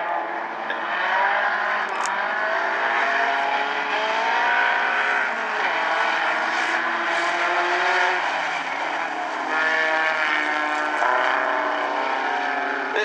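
Outlaw tuner race cars in a heat race at Grays Harbor Raceway roar steadily and loudly as they circle the track, with engine pitch rising and falling and cars passing near and far, no talk heard.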